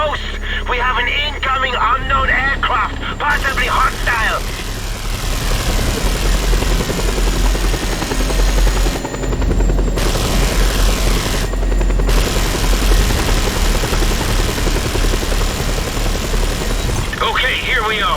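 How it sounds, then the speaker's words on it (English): Helicopter rotor and engine drone from incoming hostile aircraft in Just Cause 2, loud and continuous under game radio chatter and gunfire-like bursts, with brief cuts in the middle. "We have an incoming unknown aircraft, possibly hostile!"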